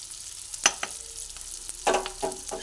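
Potatoes being stirred in a pan with Kashmiri chili powder, a faint bed of frying under a few clear scrapes and knocks from the utensil. No voices.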